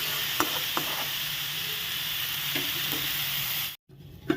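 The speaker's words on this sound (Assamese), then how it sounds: "মোৰ দালিখিনি ভালদৰে ভজা হৈ গৈছে।" Red lentils (masoor dal) with chopped pumpkin fry in a pan with a steady close sizzle, punctuated by a few spoon scrapes and taps, then a short silent gap and a renewed clatter.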